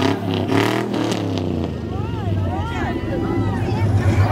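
Vehicle engines rev at a Fourth of July parade in Harrisburg, North Carolina, rumbling and rising in pitch in repeated pulls amid crowd noise and nearby talking.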